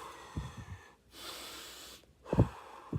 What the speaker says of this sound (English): you could do a couple practices where you just in through the nose, out the mouth